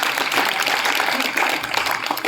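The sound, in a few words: audience applause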